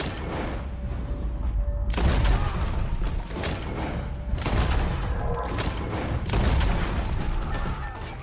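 Gunfire during a wagon shootout in Red Dead Redemption 2, with repeated loud shots and booming blasts arriving in clusters every second or two over rumbling battle noise, close and heavy.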